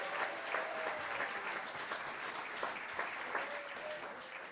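A live audience claps steadily for a performer at the start of a music show, a soft, dense patter of many hands lasting throughout, with faint voices or whistles drifting over it.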